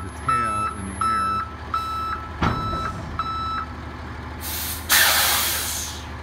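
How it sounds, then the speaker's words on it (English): A dumpster truck at work picking up a dumpster, with a series of evenly spaced reversing beeps, then a loud hiss of air brakes and hydraulics near the end, over a steady engine rumble. "the driver's about to pick up the dumpster."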